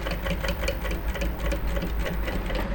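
Sewing machine stitching Ankara fabric, a fast steady mechanical chatter of needle strokes with a low motor hum, close and continuous.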